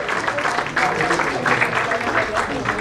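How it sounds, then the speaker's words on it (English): An audience at an education award conclave applauds the chief guest, with dense steady clapping that fills the hall and a voice speaking over it. "let's please give a huge round of applause for our chief guest"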